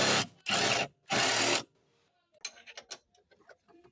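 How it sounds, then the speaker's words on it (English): Three loud, close bursts from a power tool loosen a bolt on a Honda D15B engine, followed by softer metallic clinks and handling noises. "So I'm going to try to remove this bolt now."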